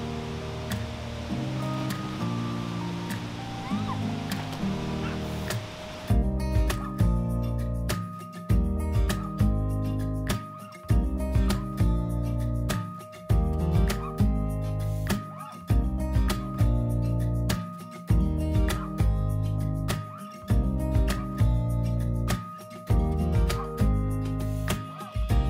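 Rushing water at Kravice Waterfall in Bosnia and Herzegovina, a steady broadband roar, is overtaken after a few seconds by loud rhythmic music with strong beats. The music dominates the rest of the clip.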